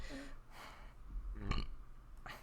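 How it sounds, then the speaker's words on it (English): A single deep, throaty human burp that rumbles for a second or so, with breathy sounds before it and no speech. "Sorry, I burped."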